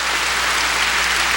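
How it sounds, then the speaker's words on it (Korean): A church congregation at a 1991 Christmas service claps together, a dense, even wash of hands beating at full volume with no voices standing out. "박수치며 하나님께 영광을 돌리고,"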